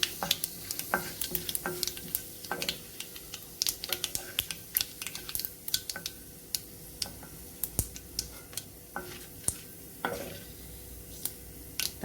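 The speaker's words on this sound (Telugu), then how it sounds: "కొంచెం మినపప్పు, ఒక స్పూన్ శనగపప్పు వేసుకున్నాం. ఇవి వేగాలి." Urad dal, chana dal and mustard seeds fry in hot oil for a tempering, giving a steady soft sizzle broken by frequent sharp crackles, pops and spoon-stirring clicks close by.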